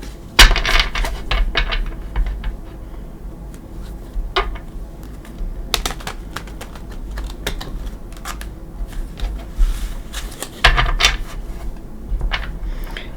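A tarot deck being shuffled by hand, giving soft riffling card flutters and taps in short bursts, loudest near the start and again around the end, with no talking.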